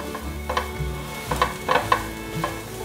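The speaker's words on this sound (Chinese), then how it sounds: "现在翻炒的动作是要让这些食材都炒出香气。" Shiitake mushrooms, carrots and cordyceps flowers sizzle in a wok while a spatula scrapes and tosses them, giving several distinct clacks over a continuous frying hiss.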